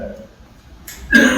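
A single short cough from a speaker at a housing summit comes near the end, sharp and fairly close, after a quiet pause with faint voice before it.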